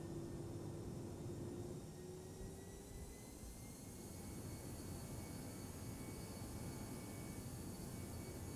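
Jet engines on a ToLiSS Airbus A319 in X-Plane 11 spool up for takeoff on the runway, a broad steady roar with a rising whine, sustained and fairly loud throughout.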